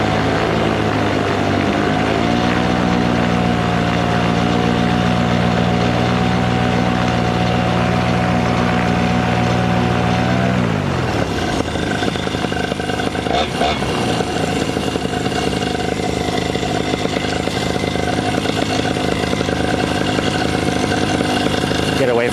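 A Ducati Monster motorcycle with a cracked exhaust starts up and runs, its engine note loud and close. It holds a steady idle, then shifts to a rougher, busier running sound.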